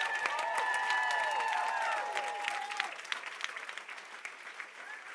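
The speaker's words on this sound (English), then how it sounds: "Somebody clap your hands and shout" Church congregation clapping and shouting in a dense, steady wash of applause, with voices calling out over it; the clapping is loudest at first, then thins a little toward the end.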